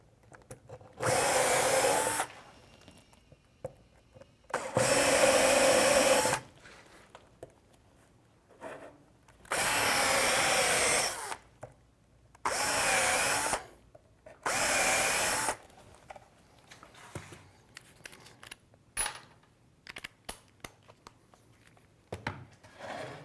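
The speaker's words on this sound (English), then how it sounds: "As I said, I'll just countersink these from below." A power drill countersinks screw holes from below in a wooden crosscut sled, in five loud bursts of whirring lasting one to two seconds each, separated by quieter gaps of handling and shuffling noise.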